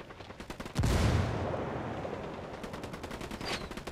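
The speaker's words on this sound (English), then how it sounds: "Yeah, they are shooting. They're shooting me" Gunfire in the co-op shooter Ghost Recon Wildlands, with bursts of rapid shots, one heavy loud blast, and a rolling echo that fades into more scattered firing.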